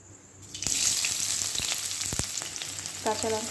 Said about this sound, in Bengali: এবার দিয়ে দেবো পেঁয়াজ আর রসুনটা আর কাঁচা লঙ্কাও